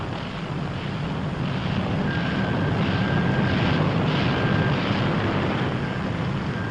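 The propeller engines of a World War II B-17 bomber drone steadily as the plane taxis and swings its nose into the wind, a dense, continuous roar with some wind buffeting.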